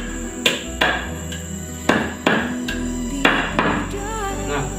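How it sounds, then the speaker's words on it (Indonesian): A machete chops plant material for homemade organic pesticide, about eight sharp, close chopping strikes at an uneven pace over steady background hum. "seperti ini kita cencang sahabat tani"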